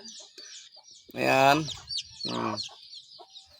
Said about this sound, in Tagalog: Ito po yung ating isang inahin na maraming sisiw.